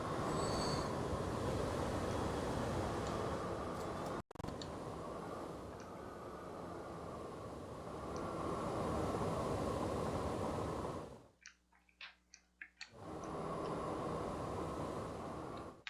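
Trains run in the railway simulation game Transport Fever 2, a steady rolling rumble with metallic wheel squeal that drops out briefly near the end, leaving a few faint clicks, then resumes.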